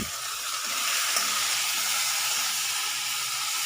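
Fenugreek greens sautéing with turmeric, coriander-cumin powder and salt in a pan give a steady, close, hissing sizzle that holds evenly throughout with no talking.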